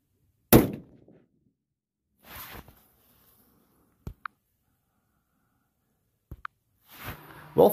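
Air rifle shots fired at a target while zeroing a scope, a few sharp isolated cracks spaced seconds apart with near silence between them, close and fairly loud.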